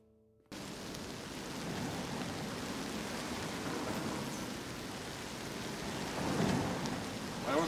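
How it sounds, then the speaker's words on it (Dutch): Steady rain pouring down after a brief quiet start, with a low rumble of thunder swelling near the end. "Paulus, het regent nou, maar het zal droog worden."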